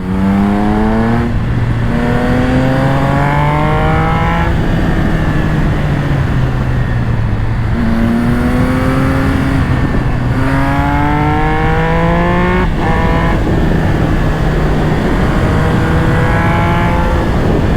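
A Triumph Speed Triple 1200 RS sport motorcycle engine screams up through the gears, pitch climbing hard, dropping at each shift and surging again, loud and close with no talking.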